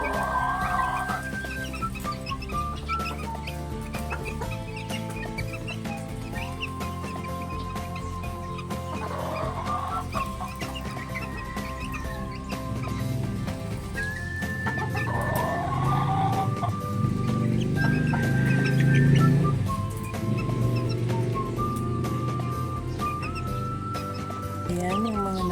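Chicks in a brooder keep up a steady stream of peeping and soft clucking throughout, with a voice heard at times amid the flock's chatter.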